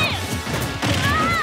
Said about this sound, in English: the bike's gonna come crashing at all of them